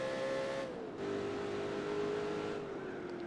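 A race car in Gran Turismo 4 holds a steady engine drone that dips in pitch at an upshift near the Laguna Seca-style corkscrew, then climbs again before another drop, a continuous game engine tone with no talk.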